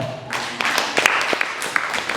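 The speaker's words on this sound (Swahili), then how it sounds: "Mchapie Yesu makofi kama unaelewa." A church congregation claps hands together in praise of Jesus, a dense spread of many overlapping claps with sharper individual slaps standing out, filling the room steadily after a brief quieter lead-in.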